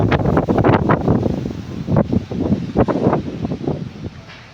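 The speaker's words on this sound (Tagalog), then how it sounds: "So, sobrang lakas talaga ng hangin." Strong wind at a sandy beach, hard gusts buffeting the microphone in rapid bursts, loud and close, easing off toward the end with no talk.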